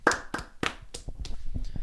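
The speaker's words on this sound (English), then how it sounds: "A little round of applause." A small scattered round of applause, a handful of separate claps spaced unevenly over two seconds, fairly close and modest in volume.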